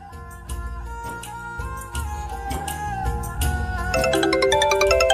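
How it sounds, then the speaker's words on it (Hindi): A phone ringtone plays a bright, steady electronic melody that grows louder and fuller toward the end, heard clearly with no talking over it. "ये तेरा फोन बज रहा है"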